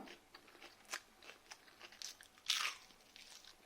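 Crunchy fried bok flower fritters being bitten and chewed, with several crisp crackling crunches at an irregular pace, close and fairly quiet, one louder bite near the end.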